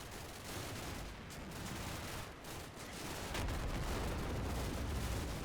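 Mortar rounds landing in the combat video game Combat Mission, heard as a dense, continuous rumble of blasts, loud and constant throughout, with no speech.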